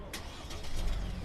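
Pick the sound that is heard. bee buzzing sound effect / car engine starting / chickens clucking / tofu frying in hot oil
car engine starting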